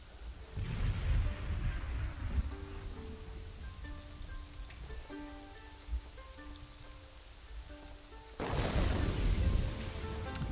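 Heavy rainfall with thunder in a medieval city-building strategy game, a steady hiss of rain under faint tonal game music, with a low rumble early and a louder burst of rain and thunder near the end.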